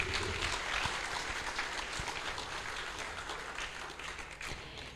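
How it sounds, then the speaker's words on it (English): Audience applause at a Sunday love feast gathering in a temple hall, a dense sustained patter of many hands clapping, moderately loud and steady, slowly easing toward the end. "Let's give them a round of applause"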